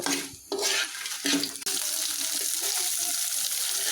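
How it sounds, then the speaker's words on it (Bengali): Chilies, vegetables and black cumin frying in a pan, stirred with brisk scraping strokes over a steady close sizzle that turns into an even, hissing fry after a few choppy opening seconds. "মরিচগুলো টেলে নিব সবজি কালি জিরা এগুলো ভালোভাবে ভেজে তারপর ভর্তা বানানো হবে"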